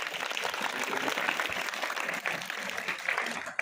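Steady applause from a crowd of students at a school principal's birthday event, dense and continuous for a few seconds before tapering off at the end.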